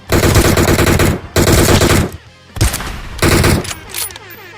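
Automatic-weapon fire in PUBG Mobile comes in loud, rapid bursts: two long volleys, then a quieter gap with scattered shots, then another burst and a fainter trailing shot.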